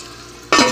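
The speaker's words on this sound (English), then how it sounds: "Let it fry for, or saute for a few minutes" Food sauteing in an oiled pan, with a loud sizzle that bursts in suddenly halfway through after a quiet start and holds steady to the end.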